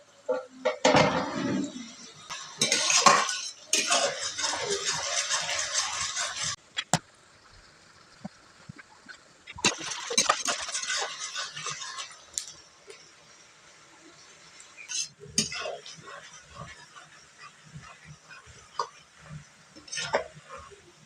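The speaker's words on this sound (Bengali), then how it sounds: "পেঁয়াজ কুচি দিয়ে পেঁয়াজগুলোকে ভেজে নেব হালকা ব্রাউন কালার করে" Chopped onions stirred and fried in a pan over a wood-fired clay stove, with bursts of scraping and clinking from a spatula against the pan between quieter stretches of steady sizzle and crackle.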